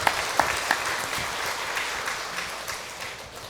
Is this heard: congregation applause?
yes